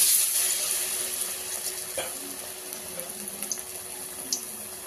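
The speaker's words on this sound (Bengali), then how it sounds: "তেল গরম হয়ে গেছে, গরম গরম শীতল বড়া ছেড়ে দিলাম।" Fritters of taro and shrimp sizzling after being dropped into hot frying oil, a close, continuous bubbling hiss with a few faint clinks on top.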